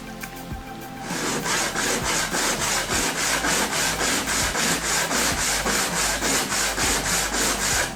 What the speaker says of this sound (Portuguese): você pega um topo de madeira com uma lixa e lixa reto.